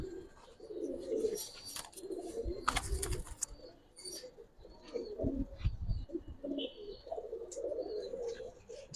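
Pigeons at a market stall cooing in repeated low throaty bursts, close by, with brief flutters and chirps between calls.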